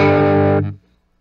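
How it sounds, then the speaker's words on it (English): An electric guitar chord played through a Stax Odrive-1 overdrive pedal rings with thick, buzzy distortion for about half a second, then cuts off abruptly into silence. "So now you could probably hear that is a thicker distortion."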